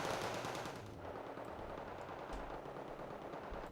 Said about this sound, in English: Montution's going to be shooting it down with their machine gun.